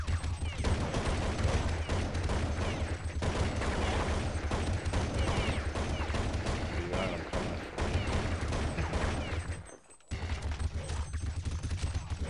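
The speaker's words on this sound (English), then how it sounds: "Here I am still reloading the unlimited clip with the golden AK" Golden AK firing in a zombie video game, dense rapid bursts of automatic gunfire continuing almost without pause, with a brief break near the end.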